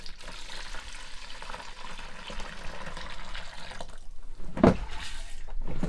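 RV antifreeze poured from a jug into the bathroom sink of a 2021 R-Pod 193 travel trailer, a steady close splashing and trickling wash that grows louder near the end as the flow hits the basin.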